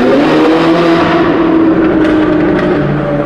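A Ferrari sports car engine roars loudly and close, its pitch shifting as it downshifts, a dense continuous growl throughout.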